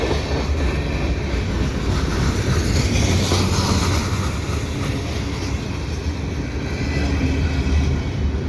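A CN freight train rolls past Dorval station on a winter day, giving a steady, loud rumble of wheels and cars that holds throughout with no break.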